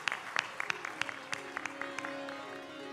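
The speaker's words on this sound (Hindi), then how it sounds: "एक बार जोरदार तालियों से अभिवादन करेंगे।" An audience claps to welcome a minister at a religious discourse gathering: scattered, fairly faint hand claps, a few sharper ones standing out, with a low steady hum underneath.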